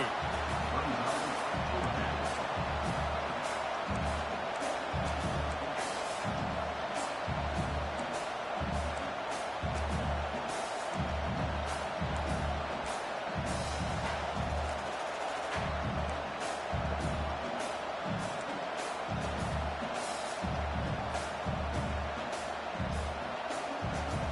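A big college football stadium crowd at a Miami Hurricanes vs Tennessee Volunteers game roars steadily as the defense faces fourth down, the dense, loud cheering sustained throughout with no clear breaks.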